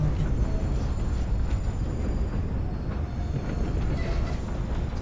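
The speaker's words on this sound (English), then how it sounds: "It's actually kind of a long train for this game." A long train rolling past in Red Dead Redemption 2, a continuous low rumble with rhythmic wheel clatter and faint metallic tones, steady and fairly close throughout.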